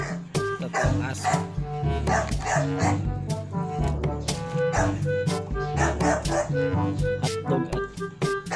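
Dogs yip and bark repeatedly over steady music, with a voice talking now and then; the barks are close and fairly loud throughout.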